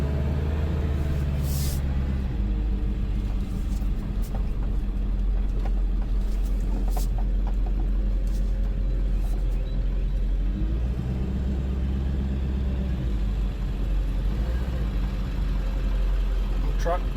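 A 2000 or 2001 two-wheel-drive diesel dually pickup truck idles with a steady, close, continuous low rumble and engine drone that holds even throughout.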